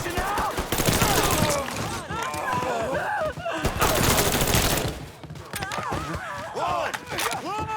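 Heavy gunfire in the open-world game Mafia 3, with dense bursts of rapid automatic shots in loud waves that come and go, mixed with shouting voices and chaotic combat sounds.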